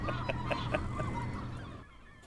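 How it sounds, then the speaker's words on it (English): A seagull calling in a news report, a rhythmic series of honking squawks over steady background hum, then falling quieter. "a pesky seagull has become famous for taking food right out of people's hands"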